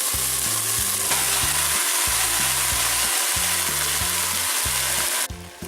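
Beef sautés in a pan for Filipino sotanghon noodle soup with a loud, dense, continuous sizzle and hiss. A steady bass-heavy music beat plays underneath throughout, and the sizzle drops off abruptly at the end.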